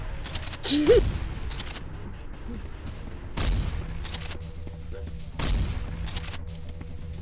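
Gunfire in SCP Containment Breach arrives in three heavy, booming bursts a couple of seconds apart, each a short, dense volley, with a brief voiced exclamation near the start.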